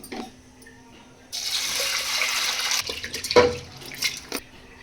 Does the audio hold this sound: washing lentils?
yes